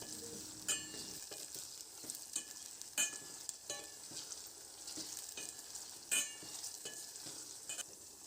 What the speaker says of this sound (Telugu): నెక్స్ట్ పచ్చిమిర్చి వీటన్నిటిని ఒకసారి కలుపుకొని మగ్గనివ్వాలి